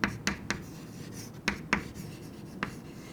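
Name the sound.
writing while explaining landscape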